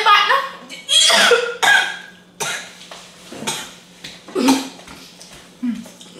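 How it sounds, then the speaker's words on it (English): A person eating a spicy seafood meal coughs in repeated harsh bursts, loud and close, mixed with throat sounds and talk. "Stop coughing."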